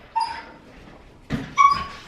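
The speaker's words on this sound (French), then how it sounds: "Ouais, c'est un chien qui joue quoi." A dog gives two short, high whimpering yips with a brief pause between them, close by and fairly soft, with no talking.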